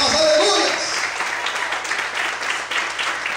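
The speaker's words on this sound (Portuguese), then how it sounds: "Bem forte as palmas, aleluia." A church congregation claps hands loudly in praise during a worship service, a dense wash of many hands that is strongest at the start and keeps a steady level throughout, with voices mixed in.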